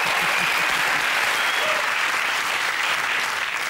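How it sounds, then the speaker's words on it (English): Studio audience applause at a TV comedy panel show, a loud steady wash of clapping and cheering that fills the whole stretch without a break. "Oh, round of applause."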